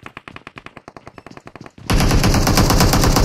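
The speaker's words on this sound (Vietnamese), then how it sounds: "Bắn bên trên mà." Rapid automatic gunfire in PUBG Mobile, a rhythmic string of close, sharp shots that stops briefly before a dense, loud burst of heavier firing fills the rest, with no voices over it.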